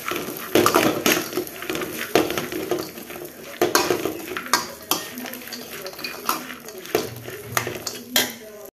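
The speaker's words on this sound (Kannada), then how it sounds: "ನೀಟಾಗಿ ಒಂದು 2 ಸೆಕೆಂಡ್ಸ್ ಫ್ರೈ ಮಾಡ್ಕೊಳ್ಳಿ." Dry fruits are fried and stirred in a pan, with rapid repeated clanks and scrapes of a spatula on metal over a light sizzle, loud and close.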